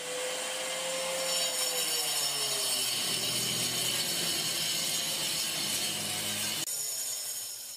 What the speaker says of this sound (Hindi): हमने ये ग्राइंडर इस तरफ भी चला दिया है।